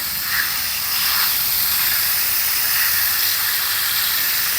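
Steady spray of water from a hose over a Clematis armandii 'Apple Blossom' in a garden, a loud, continuous hiss without a break.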